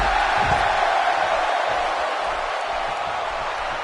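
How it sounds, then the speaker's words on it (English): A steady, dense crowd roar fills a wrestling arena in the WWE 2K17 video game, with cheering holding at a constant level for a few seconds. "Would you listen to this crowd show their appreciation for these amazing competitors?"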